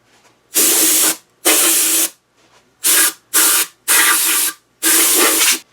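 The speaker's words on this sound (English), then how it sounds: "the first thing that I'm going to do is just clean out the mold with the compressed air" Compressed air blasts out a latex casting mold for a headpiece: six loud, hissing bursts of about a second each, separated by short silences, with no talking.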